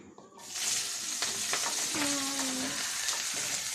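Ackee and saltfish sizzles loudly in a pan with scallion, onion and hot and sweet peppers, a constant bright crackle with occasional stirring scrapes, close and continuous throughout.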